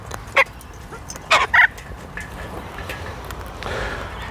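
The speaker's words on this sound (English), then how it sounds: "Hang on, I've got a bird biting my phone." A pet corella cockatoo gives a few short, harsh screeches, one alone and then two close together, over a quiet indoor background.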